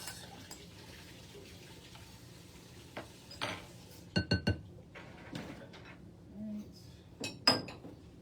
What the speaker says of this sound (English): to scoop the onions out of the bowl